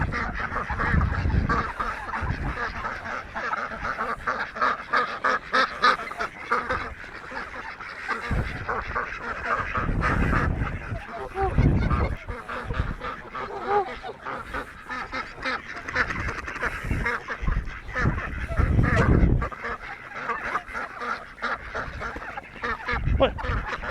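A flock of ducks and geese quacks and honks constantly while being fed, many overlapping calls close by and loud, with occasional bursts of splashing or flapping and a voice now and then.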